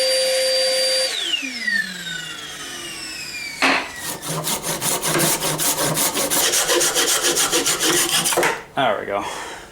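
After a spinning-down power tool whine, a handsaw cuts through a wood block in fast, even rasping strokes up close, ending with the piece coming free.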